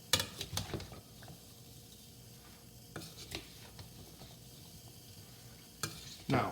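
Edamame and garlic stirred in a pan, with a steady soft sizzle broken by several scraping, clattering stirs near the start, again around the middle and at the end; no speech.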